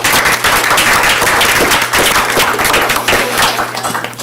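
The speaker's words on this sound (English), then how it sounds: "Let's give him a round of applause." Applause from an audience at a school board meeting fills the room, a dense, loud and continuous patter of clapping with a low hum underneath.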